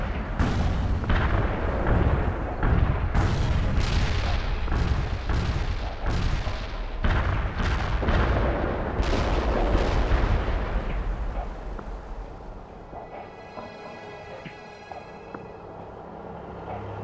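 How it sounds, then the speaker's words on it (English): Heavy explosions from a laser-guided bomb strike in the World in Conflict video game, a dense run of loud booming blasts and rumbling impacts that slowly fade into a quieter, lingering tail. "Laser guided bomb strike completed"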